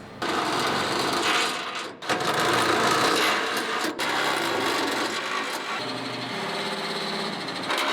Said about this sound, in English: we're going to use the 5/8 drill bit to enlarge the holes